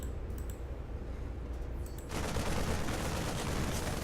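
A group of eight StarCraft Marines open fire on rocks, a dense rattling burst of rapid gunfire that kicks in midway and holds at a steady, loud level.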